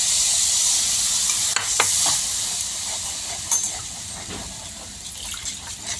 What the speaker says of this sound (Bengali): এবার আমি একটু জল দেব এই পটটা আমার ধুয়ে জলটা দিলাম